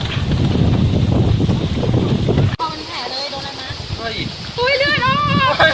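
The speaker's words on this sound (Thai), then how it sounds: "ตัวนี้ลมแรงมากครับ ตอนนี้" Strong wind gusting at a garden house in Kaeng Krachan, a loud, steady roar buffeting the microphone, with people talking over it in the second half.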